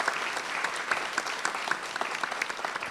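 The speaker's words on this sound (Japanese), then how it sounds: "皆様もう一度大きな拍手をお願いいたします。" Steady, dense applause from an audience at a young architects' exhibition symposium, with even clapping throughout and no voices over it.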